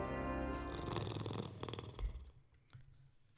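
A cat purrs in the video game Moonscars, a low rumbling purr that is steady at first and then breaks into fainter, uneven pulses before stopping, with no voices.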